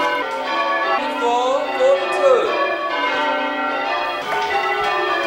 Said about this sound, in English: The evocative peal of bells to signal the beginning of the church service has rung out around the world